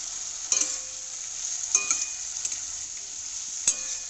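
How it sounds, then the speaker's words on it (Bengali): Chopped bitter gourd and potato frying in oil with black cumin and chilli: a steady high hiss of sizzling oil, close by, with occasional clinks of a spoon against the pan and no voices. "কালো জিরে লঙ্কা ফোড়ন দিয়ে কুচনো করলা আর আলুটা দিয়ে দেওয়া হয়েছে"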